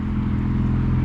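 A 2021 Audi S4 fitted with an AWE exhaust gives a deep, steady engine rumble that stays loud and even for about a second, with no one talking.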